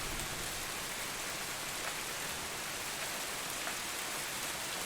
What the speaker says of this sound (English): Because I have the rain in mine